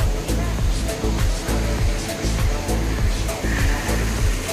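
Loud river water rushes steadily at a fishing spot in Mahagond, a dense broadband roar filling the whole clip with no pauses, close and constant.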